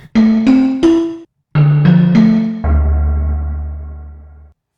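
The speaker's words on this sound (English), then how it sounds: "I took a bottle and I simply, blew over the bottle." Breathy, hollow synth tones play a short rising sequence of notes, then a lower sustained note that fades out gradually.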